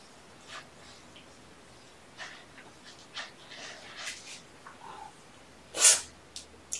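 A single sharp sneeze bursts out in a quiet room with kittens. Soft rustles and small snuffling sounds come before it, and a couple of faint ticks follow.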